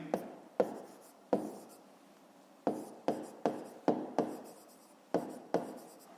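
A pen writes a math solution in a school notebook, with a series of distinct scratchy strokes in short bursts and pauses, close and fairly quiet.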